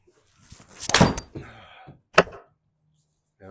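A golf ball is struck with a 3-wood on a GSPro simulator at Torrey Pines South, giving a sharp, close thunk. A second, smaller knock follows about a second later, then near silence.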